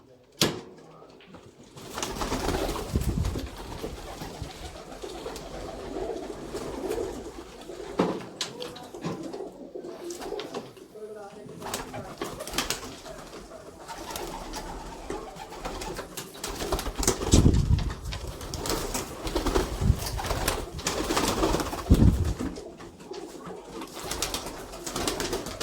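Slate tiger breed pigeons coo softly and repeatedly in a loft, with wing rustles and shuffling nearby. People talk intermittently over the birds.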